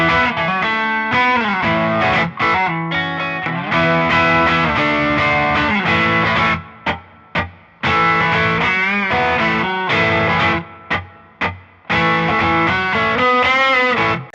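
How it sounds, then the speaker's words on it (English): Electric guitar through a Fender Mustang Micro Plus headphone amp with slapback tape delay, playing a gritty, distorted rock riff: loud, driving chords and single-note phrases with short echoes trailing each hit, several abrupt stops between phrases, no talking. "So now I just have like a nice slapback, gritty rock sound."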